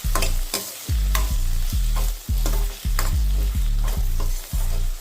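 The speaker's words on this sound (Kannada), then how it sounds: "ಚೆನ್ನಾಗಿ ರೋಸ್ಟ್ ಮಾಡ್ಕೊಳ್ಳಿ." Tomato with turmeric roasting in a pan for semiya upma, stirred in a rhythmic series of about nine scraping strokes over a constant sizzle; loud and close, with no voices.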